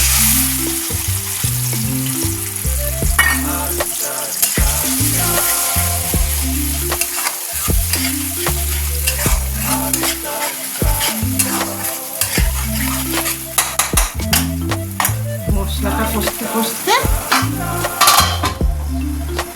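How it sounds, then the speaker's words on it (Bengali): A spice paste of ginger, coriander, cumin and turmeric sautéed in a pan with fried potatoes for a Bengali vegetarian curry, a constant loud sizzle broken by repeated scraping and clinking of a spatula stirring against the pan. "এবার এই মশলাটা পেস্ট করেছি এটাকে কষিয়ে নেব"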